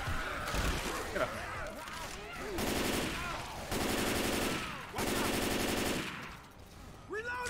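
Rapid automatic gunfire from the co-op zombie shooter Left 4 Dead 2, loud sustained bursts of roughly a second each repeating several times, with game sounds and voices in between.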